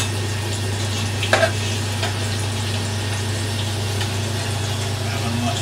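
Quartered zucchini frying in a pan at a Paris table d'hôte, a steady soft sizzle under a constant low hum, with one brief clink partway through and no talking.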